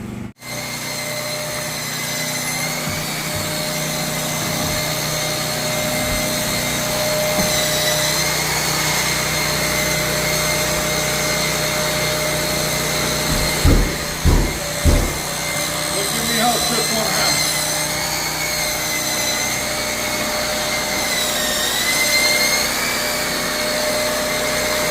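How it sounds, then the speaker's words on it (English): A Bosch drywall sander runs continuously at close range with a steady high motor whine and broadband hiss, with a few brief thumps midway as it works the surface. "let me go ahead and just keep sanding"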